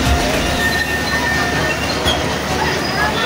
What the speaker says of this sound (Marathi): ट्रेन बघा बोगद्यातून चाललेली आहे.